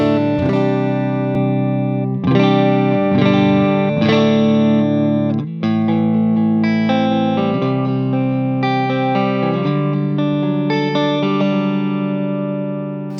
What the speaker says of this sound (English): Here's the dry DI sound of the guitar.